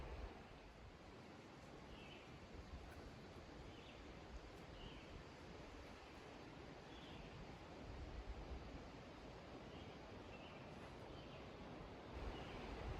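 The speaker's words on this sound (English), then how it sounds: "I'm going to end with just a few quiet, peaceful seconds down along the North Anna River." Quiet riverside ambience along the North Anna River at a Civil War battlefield, a faint, steady wash of flowing water and breeze with occasional soft bird chirps and no voices.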